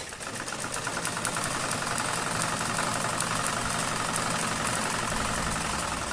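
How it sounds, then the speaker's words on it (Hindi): Sewing machine stitching a square pattern on a cotton roti cover, a fast, even mechanical whirring with rapid regular ticks running steadily and close throughout, no talking. "अब इसमें चौकोर करके लगा देते हैं सिलाई।"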